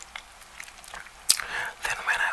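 Roti being bitten and chewed close to the mic: soft crunchy bites and wet chewing noises come in irregular bursts, with a sharp bite partway through, over quiet background whispering.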